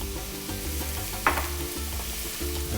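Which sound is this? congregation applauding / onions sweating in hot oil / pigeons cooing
onions sweating in hot oil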